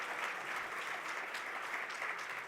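A conference audience gives a steady, even round of applause at a green hydrogen conference, a continuous wash of many hands clapping, heard from a distance and fairly soft.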